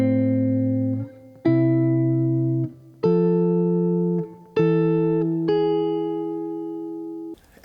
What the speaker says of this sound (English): Let me play the root notes and the third of the first 4 chords.